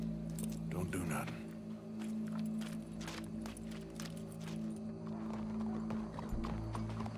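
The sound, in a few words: horse hooves in video game Red Dead Redemption 2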